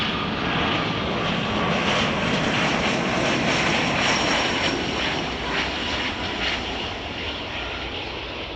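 An Airbus A330 turning from the taxiway onto runway 10 Left at Chicago O'Hare gives a steady, loud broadband jet engine roar that holds evenly throughout, with no talk.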